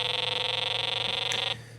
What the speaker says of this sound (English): That is the sound of a thief opening a door.